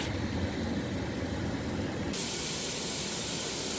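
Steak juices bubble and sizzle in a pan as a steady, loud, broadband hiss that brightens abruptly partway through and keeps going without a break.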